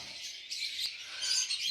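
Lovebirds at a lovebird farm in Dhaka keep up a dense, high-pitched chirping and twittering that runs continuously at moderate volume, with no voices over it.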